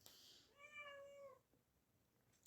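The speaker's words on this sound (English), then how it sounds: "is a runaway cat coming into my room" A cat lets out a single drawn-out meow inside a room, quiet and fairly close, with near silence before and after.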